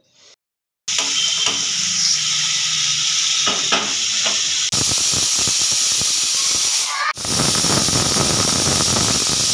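A pressure cooker hisses loudly with escaping steam as chana masala cooks, a steady, bright whistling rush that starts abruptly after a brief quiet moment and surges again near the end, with no talking.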